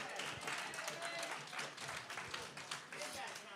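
A crowd at a community information session on power and home electric programs applauds with steady, dense clapping that sounds faint and somewhat distant, with voices mixed in.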